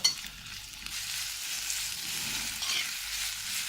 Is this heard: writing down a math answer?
no